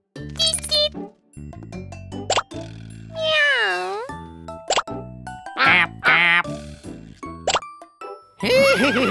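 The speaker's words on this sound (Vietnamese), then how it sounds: "hãy mau tìm tiếng vịt kêu nha" A cartoon duck in a children's animal song quacks in a string of bright, tuneful calls, mixed with plops, jingles and other playful cartoon animal effects over music.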